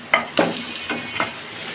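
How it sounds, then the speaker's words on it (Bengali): Meat frying in an oily spice masala for dal gosht, a crackling sizzle broken by four distinct stirring strokes at an uneven pace, close and with no voices. "এখন আমি মাংসটা ঢেলে দিচ্ছি।"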